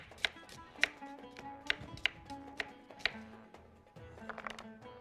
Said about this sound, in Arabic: كل البصل ده بقطعه